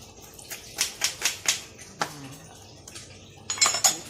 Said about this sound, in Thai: ช้อนขูดก่อนนะคะ